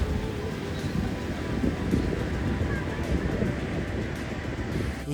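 Surf at Kashid beach in Maharashtra rolls in a continuous broad wash of waves mixed with wind rumble, steady and fairly loud throughout.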